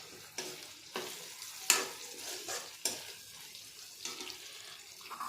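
Ivy gourd pieces fry in a pan with a soft, steady sizzle, broken by repeated spatula stirs and scrapes at roughly one-second intervals, fairly quiet and close.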